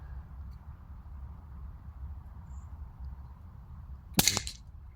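An Anschutz 9015 HP air rifle fires a single sharp, loud pellet shot near the end, following a stretch of quiet outdoor background hum.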